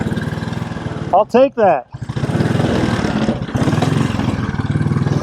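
A 1957 Royal Enfield Bullet 500 motorcycle engine thumps and revs loudly up close, a pulsing single-cylinder beat that surges and dips, with a voice speaking briefly over it.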